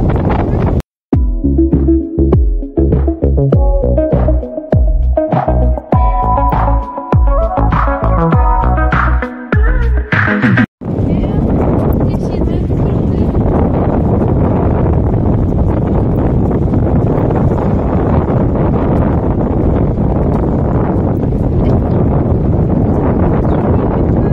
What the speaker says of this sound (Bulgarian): Морето е бурно, има вятър.